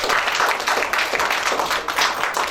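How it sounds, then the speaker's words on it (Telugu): Audience at an award ceremony in Warangal claps steadily, a dense wash of many hands sustained throughout with slight swells, no voices over it. "క్లాప్స్ కొంచెం గట్టిగా పెట్టండి"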